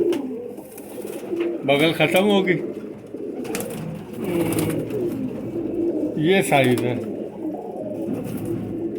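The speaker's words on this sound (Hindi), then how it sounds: "ये है रामपुर का बजरा कबूतर" Rampur Bajra pigeons cooing in soft, repeated bursts close by, heard under steady conversation between men handling the birds.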